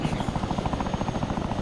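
A Chinook helicopter flies in Arma 3, heard from inside the cabin as a loud, steady, rapid rotor thumping over a dense engine drone.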